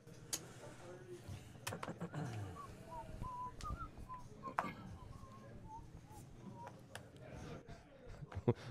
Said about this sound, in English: Was that the professor whistling?